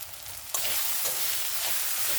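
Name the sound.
spices frying with salt and turmeric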